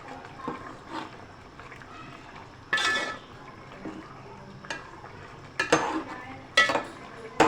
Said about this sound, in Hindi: अब इन दोनों चीज़ों को डाल के मिक्स करेंगे।